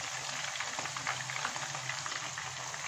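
Mini chicken shashlik sticks frying in hot oil, a steady dense sizzle and crackle, close and continuous with no talk.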